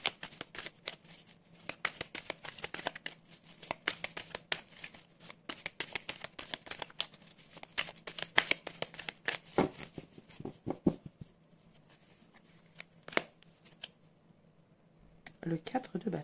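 Tarot cards being shuffled by hand: rapid, close riffling bursts of crisp clicks and slaps in repeated runs with short pauses, with some talking alongside.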